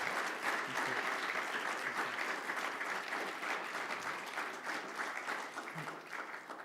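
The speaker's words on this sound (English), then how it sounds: "Would you give our presenters another round of applause?" At a lecture, an audience gives the presenters a steady round of applause, a dense wash of clapping that holds for several seconds and eases slightly toward the end.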